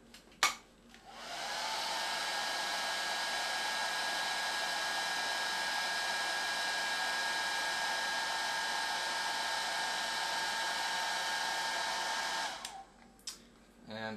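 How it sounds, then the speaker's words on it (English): A heat gun roars steadily for about twelve seconds, shrinking black tubing over the negative lead of a homemade Zener regulator, then cuts off with a few clicks. "Now we shrink wrap the black tube on the negative end."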